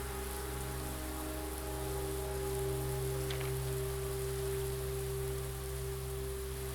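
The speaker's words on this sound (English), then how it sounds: "Wait, it's raining." Rain falls steadily in the video game Blue Prince, a soft continuous hiss of drops on surfaces over a low electronic hum, with no voices.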